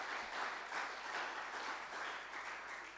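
Sustained applause from a seated audience at a school debating contest, many hands clapping in a thick, continuous roar that holds steady throughout, with no talk on top.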